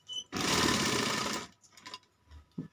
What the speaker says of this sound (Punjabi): ਇੱਧਰ ਇੱਥੋਂ ਸਿਲਾਈ ਮਾਰਾਂਗੇ ਜਿੱਥੇ ਆ ਮੂੰਹ ਹੈ